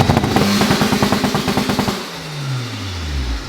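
A K20-engined Honda Civic holds a high, buzzy rev limit on launch control with rapid pulsing stutter, then the engine note drops away and settles toward idle, loud and close.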